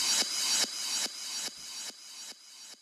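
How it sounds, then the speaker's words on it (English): A bright, noisy synth burst from a hard trance track repeats about seven times at a steady rhythm, each echo a little quieter, a short riser trailing off through heavy delay. "It's just basically a really short riser with loads of delay."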